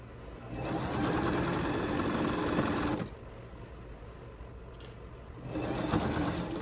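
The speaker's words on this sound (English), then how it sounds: "back stitch at first to save everything." A sewing machine back-stitches a fabric bag: a close, fast, steady whirring run of needle strokes, a short pause, then a second run.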